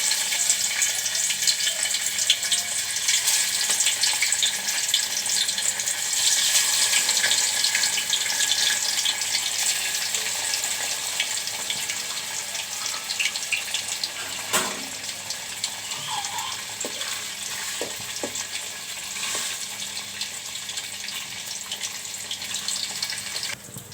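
Tilapia pieces frying in hot mustard oil, giving a steady, dense sizzling hiss that continues for the whole stretch with a few brief louder pops and no talking.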